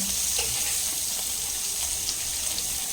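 Bread slices roast in butter in a pan, giving a steady close-up sizzle and crackle that holds evenly throughout with no talking.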